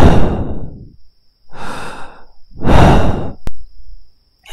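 A voice imitates heavy breathing heard over a phone line, three slow, loud, close breaths with pauses between, no words spoken.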